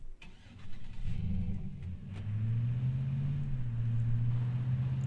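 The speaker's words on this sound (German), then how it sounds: "Kommt ein Auto." A car in the video game H1Z1 King of the Kill approaches and drives past, its mid-range engine rumbling loud and close, rising in pitch and revving as it speeds up, with no talk over it.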